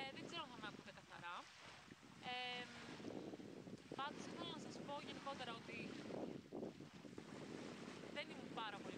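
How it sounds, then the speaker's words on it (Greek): Sea waves washing the shore under strong gusting wind that buffets the microphone, a continuous rushing roar, while someone talks over it. "ακούγεται το κύμα και φυσάει κιόλας"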